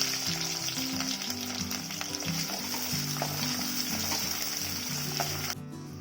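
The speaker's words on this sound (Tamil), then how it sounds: "கொஞ்சம் வெந்தயம் போட்டுக்கலாம். நல்லா பொரியட்டும்." Fenugreek seeds, curry leaves and ground shallots fry in hot oil for a Tamil manathakkali kai kuzhambu, giving a steady close sizzle with small crackles and pops that stops abruptly at the end.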